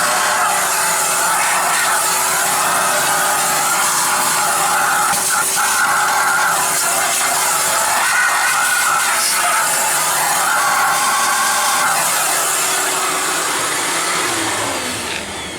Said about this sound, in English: we're going to do use the shop vac also, and vacuum up any of this that's all around the hole there